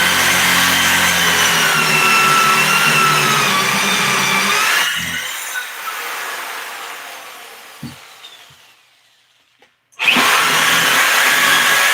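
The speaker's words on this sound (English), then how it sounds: "I'll just take that drill bit back down in there in a minute when I get the rest of them drilled" A power drill bores holes in wood, whining steadily and loudly for about five seconds, then stopping, with a few faint knocks in near silence before a second loud burst of drilling starts near the end.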